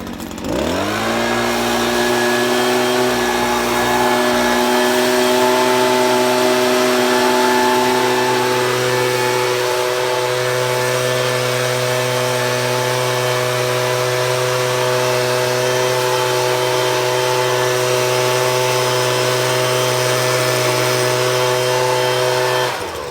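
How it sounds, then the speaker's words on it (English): A STIHL BR200 backpack leaf blower runs at a constant high speed while blowing dry leaves into a net, giving a loud, steady droning whine with a strong hum that rises briefly at the start and then holds unbroken. "you're going to see me blowing these leaves back into the net for our test"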